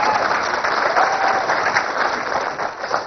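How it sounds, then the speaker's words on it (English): A studio or comedy audience claps loudly and continuously, a dense even wash of many hands sustained throughout with no one speaking over it. "you can applaud for that"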